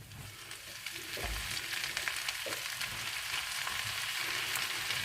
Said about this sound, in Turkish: hafiften kavuruyoruz ve üzerine ıspanağımızı ilave edeceğiz